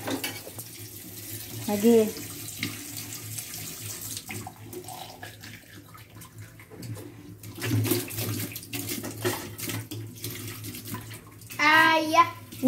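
Tap water runs steadily into a kitchen sink while dishes are washed and rinsed, a continuous splashing flow with brief clatters, under a child's and an adult's voices.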